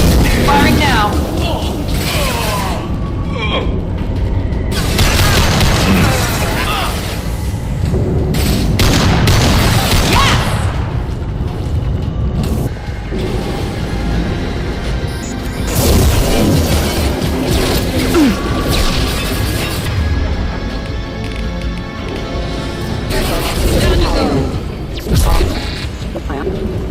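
Weapon fire in the video game Mass Effect 2 thumps and booms through a loud, busy firefight, with mechanical clanks and voices talking over the action.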